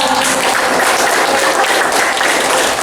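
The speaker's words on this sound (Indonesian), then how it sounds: "Beri tepuk tangan ya." Steady applause from a classroom audience right after a student presentation wraps up, loud and dense throughout without pause.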